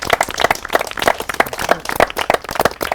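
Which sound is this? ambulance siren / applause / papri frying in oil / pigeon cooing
applause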